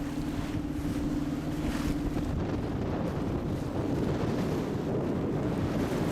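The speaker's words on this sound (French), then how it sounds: "Donc je disais qu'on était toujours à voile dans la Delaware." Sailboat under sail on the Delaware, heard as a steady rush of wind across the microphone with water washing against the hull and a low drone underneath, continuous and fairly loud throughout, with no talking.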